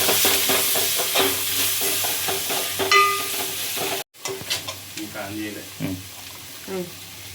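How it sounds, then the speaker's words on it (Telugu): Chicken sizzling and being stirred in a pan with ginger-garlic paste for a homemade curry, close frying hiss with scraping stirs, a voice speaking over it. "ఇప్పుడు చికెన్ వేసుకుందాము."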